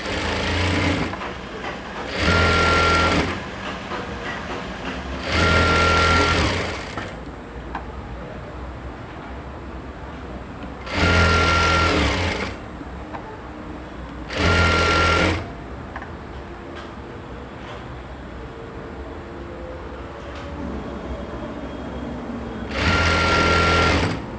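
Sewing machine stitching a ruffled three-layer lehenga skirt, heard in five or six loud bursts of one to two seconds each, separated by quieter handling pauses, close up with no talking.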